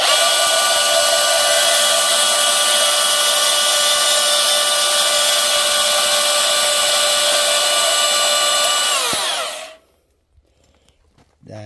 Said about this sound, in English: So what I do is I cut a nice square cut with the porta band